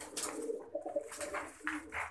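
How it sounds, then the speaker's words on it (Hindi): A pigeon coos softly in a breeder's loft, giving a few low, faint cooing phrases with quiet background noise. "कहीं से ये उड़ा लिया कबूतर है"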